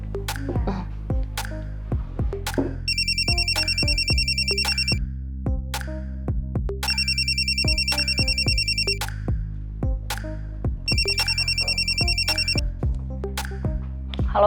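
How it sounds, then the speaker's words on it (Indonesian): Phone ringing on an outgoing call, a repeated electronic ringtone in regular bursts with steady rhythmic beats underneath, clear and alone. "gue harus telepon Citra dan harus minta tolong sama dia"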